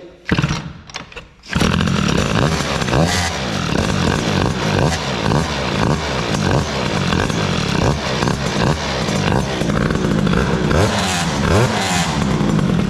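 A small two-stroke scooter engine with an overly long exhaust revs hard and continuously after a brief quiet start, a loud, buzzing, raspy exhaust note with rapid pulsing rises and falls.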